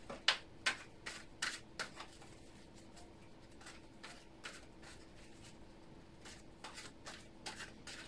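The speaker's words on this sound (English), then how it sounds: "Just a moment, I need to shuffle a little." A deck of tarot cards is shuffled in a quiet room, giving a run of crisp papery riffles and snaps that are sharpest at the start and then settle into softer, irregular flicks.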